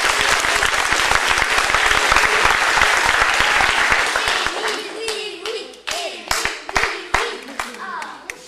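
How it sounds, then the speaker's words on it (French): An audience at a junior theatre show bursts into loud, dense applause that holds steady, then thins into scattered individual claps and fades, with a voice speaking over the tail end. "Émile, oui, on applaudit bien fort."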